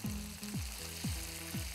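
Chicken shallow frying in oil in a pan for a fried chicken curry: a steady close sizzle with a few repeated sweeping, stirring-like sounds over it, and no talking.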